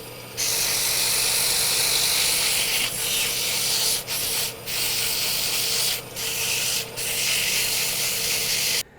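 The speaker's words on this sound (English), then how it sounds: "so we've sanded to 400 grit here" Sandpaper pressed against a wood-turned pen spinning on a lathe, a steady loud hissing rasp with a few brief dips where the abrasive lifts off, with no talking.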